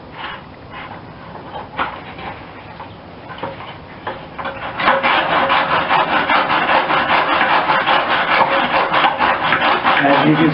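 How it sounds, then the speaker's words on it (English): A hacksaw cuts through PVC pipe for a gate valve stand. Scattered scraping gives way to steady, rapid back-and-forth rasping strokes, close and loud. "I changed saws to use the hacksaw, but it gives me a much cleaner cut"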